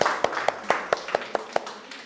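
Classroom applause during an Arabic language lesson, heard as a short run of about eight evenly spaced hand claps, fairly close and moderately loud, with no talking.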